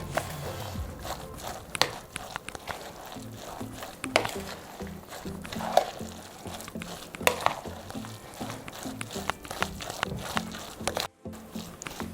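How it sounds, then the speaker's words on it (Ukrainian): Minced meat being mixed by hand with spices and a blend of chopped greens for cabbage meatballs, giving a steady run of squelchy, sticky stirring noises with soft slaps, close and moderately loud, with no talking. "все добре перемішуємо"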